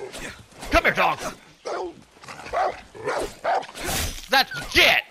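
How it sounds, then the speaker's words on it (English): A dog in the Far Cry 6 video game yips and barks in short repeated bursts, mixed with a player's excited speech and game sounds throughout, close and fairly loud. "Come here, dog!"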